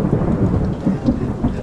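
Rumbling thunder from a storm rolls on steadily in the Mindanao outdoors, loud and close, with rain noise mixed underneath and no voices.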